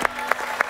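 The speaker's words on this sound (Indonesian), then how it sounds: "Gak apa-apa lah kita kasih tepuk tangan." An audience at a comedy show gives a brief smattering of applause, a few soft claps under a low crowd murmur.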